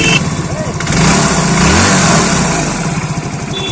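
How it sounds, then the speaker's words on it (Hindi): A Hero Splendor BS6 motorcycle engine runs loudly and steadily, idling with a rough, pulsing rhythm, tappet noise, and a slight rise in revs midway. "गाड़ी स्टार्ट करके इसकी आवाज़ सुनाते चलेंगे"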